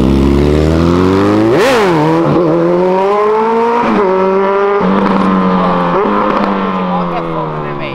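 A motorcycle engine revs up and down repeatedly, its pitch rising and falling with each throttle blip, loud and close.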